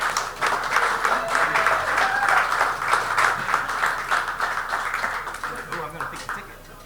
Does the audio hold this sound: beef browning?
no